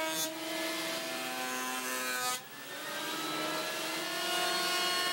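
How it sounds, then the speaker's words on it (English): A planer running a glued-up wooden table top through, a steady whining machine hum with a bright rushing cut that starts, drops briefly around the middle as the board passes, then resumes, fairly close and alone. "Unclamp the top, scrape off the glue, and I run it through the planer."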